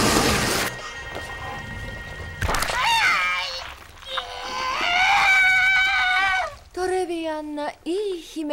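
A woman screams in a film scene over a roar of rain and storm noise, long wavering shrieks that rise and break into shorter gasping cries, loud and close.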